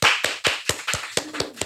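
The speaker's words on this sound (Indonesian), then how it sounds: "Tepuk tangan!" Rhythmic hand claps from an audience at a church podcast event, eight distinct claps at a steady pace, fairly close and loud with no talking.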